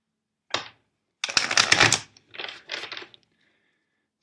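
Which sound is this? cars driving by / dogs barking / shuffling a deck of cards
shuffling a deck of cards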